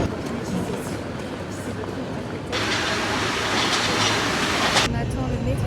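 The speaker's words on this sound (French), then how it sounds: "On attend le métro et on va aller sur la ligne 6" Paris metro train rumbling in an underground station, a steady low roar that swells louder midway with higher screeching rail noise, while a voice talks over part of it.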